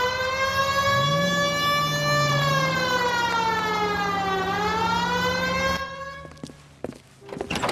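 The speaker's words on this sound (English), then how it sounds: "Hit the siren." A police car siren from the video game L.A. Noire wails loud and steady, its pitch sweeping slowly up and down, then breaks off abruptly near the end into a few scattered clicks and knocks.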